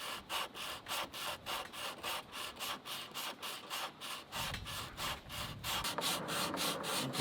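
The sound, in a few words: sanding block sanding wood of Epiphone guitar headstock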